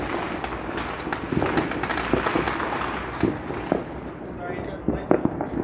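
New Year's Eve fireworks bursting over Tirana, a dense run of crackling pops and sharp bangs of varying loudness, fairly close, continuing steadily with people's voices mixed in underneath.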